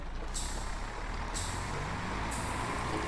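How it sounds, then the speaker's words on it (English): A Volvo B10BLE bus door in the Omsi 2 simulator releases repeated sharp hisses of air pressure over a steady engine idle, close and fairly loud. "there it's closing now. You can hear the pressure. I presume it's some sort of air pressure system"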